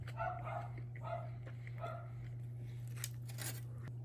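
A person imitating a dog's barking, a few short yipping bark sounds near the mic over a steady electrical hum, followed by brief clicks and rustles.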